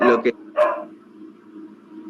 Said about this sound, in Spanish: hay un perro creo ladrando